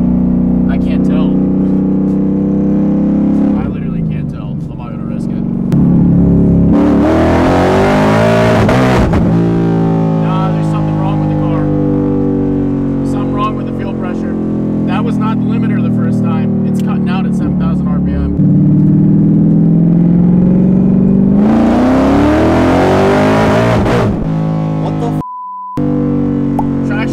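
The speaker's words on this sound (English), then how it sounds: "I think I'm hitting the factory red line. That's 7500 RPM that it's cutting out" A Mustang engine revs hard with rising harmonic sweeps, repeatedly climbing and cutting out at the factory rev limiter around 7500 RPM, loud and close throughout.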